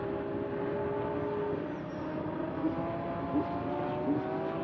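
A racing car at the Sepang 12 Hours accelerates out of a hairpin, its engine droning and rising at a distance, with a few fainter engine bursts passing under it.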